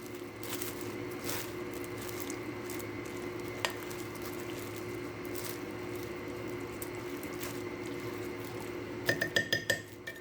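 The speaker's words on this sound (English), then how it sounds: "Then we're going to mix this up a little bit." A spoon stirring ingredients in a slow cooker for southwest chicken, with soft scraping and clinks throughout, close and steady, ending in a quick series of sharper knocks against the pot.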